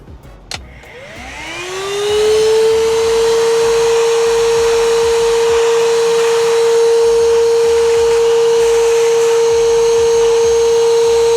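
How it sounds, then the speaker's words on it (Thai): A STIHL SEA 20 cordless vacuum cleaner with a crevice nozzle, used on a car's crevices, starts after a click, spins up and then holds a loud, steady, high whine close by. "แรงดูดค่อนข้าง ดีนะครับสามารถดูดฝุ่นได้หมดจดเลยทีเดียว"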